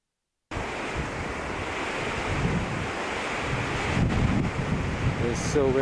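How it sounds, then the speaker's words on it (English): Strong wind roaring across an exposed mountain ridge on the Arizona Trail, a constant loud rushing blast buffeting the microphone, swelling slightly toward the end, with no clear talk. "It's so windy."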